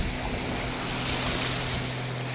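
Sea waves at the seaside in Malaysia make a steady, loud, broadband wash of surf with wind rumble buffeting the microphone and no clear breaks.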